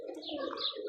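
A pigeon at a racing-pigeon club loft in Jalilabad gives one brief, soft coo, close and clear, lasting under a second.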